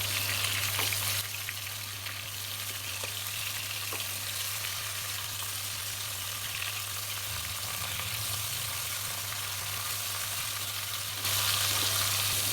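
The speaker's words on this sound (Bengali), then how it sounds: "মাছগুলো উল্টাই দেব।" Fish pieces fry in hot oil in a wok and are turned over. A dense, steady sizzle runs the whole time with a few faint clatters, swelling slightly louder near the end, over a low hum.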